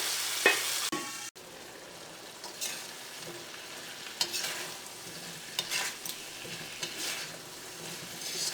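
Water with potatoes softly boiling in a covered pot over medium flame, a quiet low hiss with a few faint clicks and taps scattered throughout.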